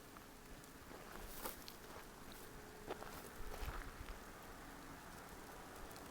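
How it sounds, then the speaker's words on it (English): Light rain patters outdoors in Alabama woods, a soft, faint steady hiss with scattered drops and occasional footsteps, no talking. "Sort of wanting to try to rain a little bit on us today"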